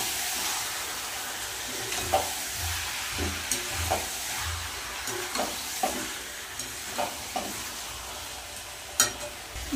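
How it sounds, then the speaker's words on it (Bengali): Drained lote (Bombay duck) fish sizzle in a pan with dried chili and garlic paste, a steady frying hiss broken by scattered stirring clicks and scrapes. "এবার কিন্তু জল ঝরিয়ে রাখা লোটে মাছগুলো দিয়ে দেবো।"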